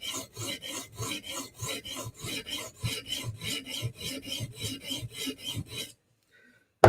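A blade rasps back and forth over a sharpening stone in steady, rhythmic strokes, close and fairly loud, for about six seconds before stopping, followed by a brief knock.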